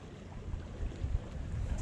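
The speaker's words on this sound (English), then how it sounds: "Extremely windy, making the fishing a little bit more difficult." Strong wind buffets the microphone out on wide open water while bass fishing from a boat, a steady low rumble with gusty swells and no talking.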